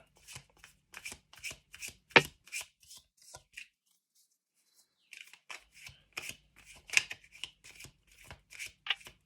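Tarot cards are shuffled by hand in quick, crisp riffling bursts, close and clear. The bursts stop for about two seconds in the middle, then resume in a brisk run.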